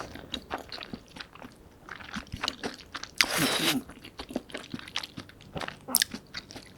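Someone close to the mic eats Buldak spicy stir-fried noodles with corn cheese, giving repeated soft slurps, moist chews and a few crunchier bites at an uneven pace, fairly quiet overall.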